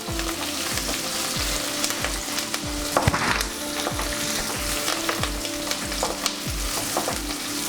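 Black-eyed peas cook in a hot frying pan for lobia chaat with a continuous close sizzle and regular, rhythmic scraping strokes, and no one talks.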